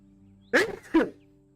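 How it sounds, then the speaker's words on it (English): A single close sneeze in two sharp bursts, a quick inhale-like snap followed by a louder explosive release, then quiet. "I might sneeze. Will I sneeze? I will sneeze."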